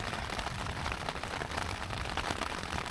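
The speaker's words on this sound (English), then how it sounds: "It's still raining." Steady rain falling on a bikepacking campsite, a faint, even patter and hiss that holds for a few seconds with no talking.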